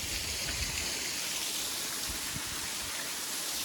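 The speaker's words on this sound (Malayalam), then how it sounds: "ഇതണ്ട ഇതിൻ്റെ മുകളിൽ നിന്ന് വെള്ളം വീണ." Water pours down from above at a small waterfall near Shangcher village, making a steady, even rushing roar with no voices.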